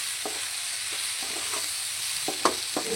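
Eggplant curry is stirred in a hot pan with oil, giving a soft, steady sizzle broken by a few light scraping clicks of the spoon, close and fairly quiet, with no voices.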